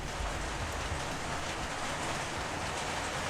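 Heavy rain falling in a dense, steady wash of noise that stays loud and unbroken throughout, with no voices.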